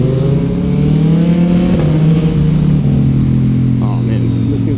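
Motorcycle engine accelerating on a road ride: a loud, close engine drone climbing in pitch, a shift dropping the tone mid-way, then climbing again, with wind noise steady beneath.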